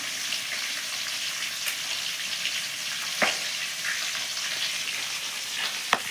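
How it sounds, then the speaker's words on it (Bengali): Prawns coated in turmeric and salt fry in a pan, giving a steady close sizzle with a couple of sharp clicks of a utensil against the pan. "মাছ ভাজার জন্য দিয়ে দিচ্ছি হলুদ দিয়ে দিচ্ছি লবণ"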